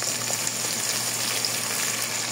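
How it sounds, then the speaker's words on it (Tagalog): Shrimp sautés in a hot pan with garlic, onion and ginger, giving a steady, close, dense sizzle that continues evenly throughout with no voices. "Gisa natin yan guys, yung ating hipon."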